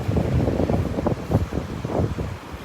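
Gusty wind buffets the microphone on a Delnor-Wiggins beach walk, a low, rumbling, uneven roar that pulses in bursts close up, with the wash of surf blending faintly behind it.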